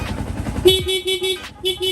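A Sniper 150 V2 motorcycle's stock horn beeps in a rapid series of short, thin, buzzy toots over the rumble of an idling engine.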